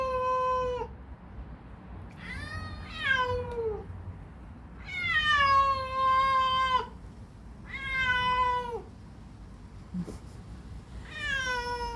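A female cat and an unfamiliar stray cat meow repeatedly, long drawn-out wailing cries in turn over a steady low background hum.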